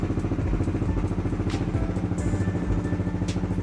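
A motorcycle engine fitted with a racing exhaust idles steadily nearby, putting out a rapid, throbbing low rumble with faint mechanical clatter.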